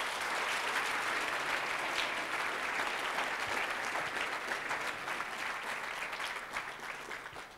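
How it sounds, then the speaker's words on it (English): A church congregation claps at a Sunday service, a steady wash of many hands that carries on evenly and then eases slightly toward the end, heard at a modest level with no speech over it. "Clap for Jesus."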